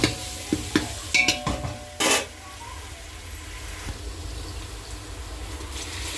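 Mint leaves stirred into hot oil in a pan, with a few sharp scrapes and clinks of a utensil early on, then a soft, steady sizzle continuing alone.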